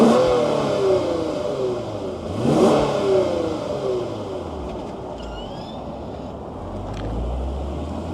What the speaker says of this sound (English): let's fire up this V6 and hear what it sounds like